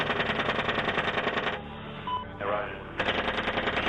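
Helicopter gunfire from a US military attack in Iraq, a dense rapid rattle of bursts that fills the start and end with a quieter gap between, mixed with radio voices talking.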